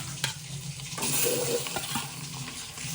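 Eggs frying in a pan with chilli powder and chicken masala, a steady close sizzle with occasional stirring scrapes and clinks, no voices.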